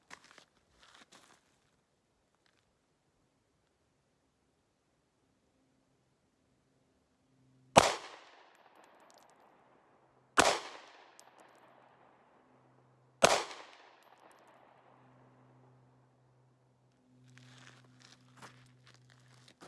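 Three sharp handgun shots from a 3-inch XD pistol fired at a 50-yard target, spaced a few seconds apart, each a loud close crack with a short decaying echo against quiet outdoor background.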